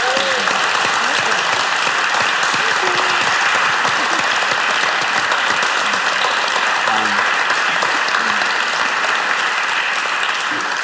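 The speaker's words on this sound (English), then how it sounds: "I think we'll give her a round of applause for that." An audience at an interview with death row survivor Sunny Jacobs breaks into sustained, even applause, a dense, steady wash of clapping filling the room throughout.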